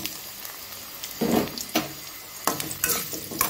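Yellow pumpkin pieces frying in oil with dried red chillies are stirred in a pan, the steady sizzle broken by a few louder scraping pushes of the spoon, close and clear.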